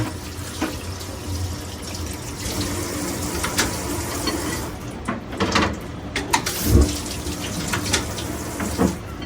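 Running tap water over tomatoes being washed in a kitchen sink, a steady close stream with occasional splashes and handling bumps, no talking.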